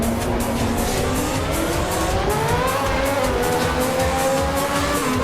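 Sauber Formula One car from the 1994 season racing at Brazil in Assetto Corsa, its engine droning steadily and loud with shifting pitch and other cars in the mix, faint tire noise throughout, no talking.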